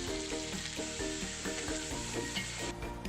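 Chopped onion sizzles in hot coconut oil for prawn biryani, a steady bright crackling fry that runs continuously, with a tuneful music bed playing underneath.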